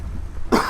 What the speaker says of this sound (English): just turned around and coughed